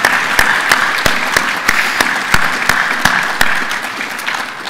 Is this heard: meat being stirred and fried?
no